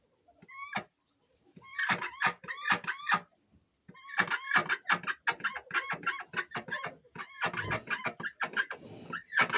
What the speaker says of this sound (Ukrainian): Качечки молоденькі,